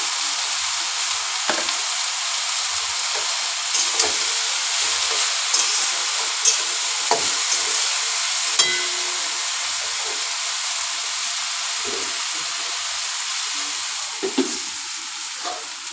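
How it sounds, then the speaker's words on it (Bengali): Leafy greens (sak) frying in a pan on a gas stove give a steady, loud sizzle and hiss, broken by occasional soft clinks and stirring scrapes, with nobody talking. "শাক ভাজাটা হয়ে গেছে, গ্যাসটা অফ করে দেবো।"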